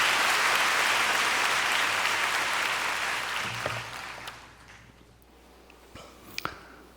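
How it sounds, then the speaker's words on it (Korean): Church congregation giving a big round of applause to God, dense sustained clapping that fades out after a few seconds, leaving a quiet room with a few scattered knocks and shuffles. "하나님께 큰 박수 올려 돌리십시다"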